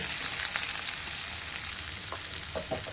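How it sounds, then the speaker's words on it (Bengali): Chopped onion and garlic frying in hot oil in a wok, a steady close hiss of sizzling with no talk over it. "এখন এই পেঁয়াজ আর রসুন তেলে ভালো করে ভেজে নেব।"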